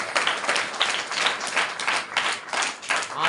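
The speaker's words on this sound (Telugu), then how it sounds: "గట్టి ఒకసారి క్లాప్స్ కొట్టండి." A church congregation claps together in a steady, rhythmic beat, with many hands striking in unison at a brisk, even pace for a few seconds.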